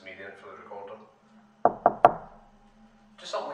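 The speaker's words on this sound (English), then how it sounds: "can you maybe make like a small tapping or knocking sound, kind of like this? And this is me doing it for the recorder." Three sharp knocks, tapped out as a demonstration in a janitor's room at Brodhead Manor, land in quick even succession at close range, with faint voices and room noise before and after.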